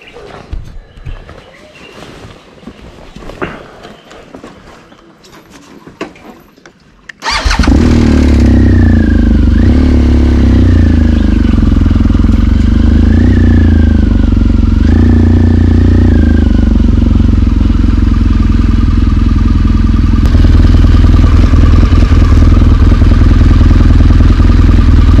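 A vehicle engine starts abruptly and settles into a loud, steady running drone as it pulls away along the road, with rising and falling revs as it gets under way; quieter ambient sounds come first.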